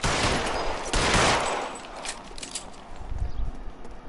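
A loud burst of gunfire in the LA Noire video game, with a sharp second volley just after the first, fading into scattered lighter thuds and footsteps.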